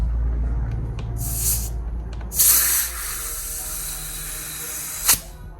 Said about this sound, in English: I'm really digging this pump spray that you can feel right from the top here.